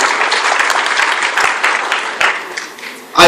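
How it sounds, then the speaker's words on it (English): Audience applause at a women's leadership event in Gauteng, brisk close clapping from many hands that stays fairly steady for a few seconds, then a short louder burst at the end. "A round of applause again for KwaZulu-Natal"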